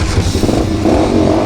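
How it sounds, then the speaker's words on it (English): A pit bike motorcycle engine revving loudly and close up, a harsh, steady buzzing drone with a clattery edge. "Let's go for a rip on the pit bikes, huh?"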